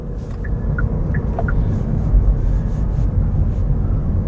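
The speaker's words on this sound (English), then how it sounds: "cars passing by, got some road noise from the tires" Steady broadband tire and road rumble from a car driving at about 40 mph through a neighborhood, with passing cars adding to a continuous loud wash of noise, with no voices.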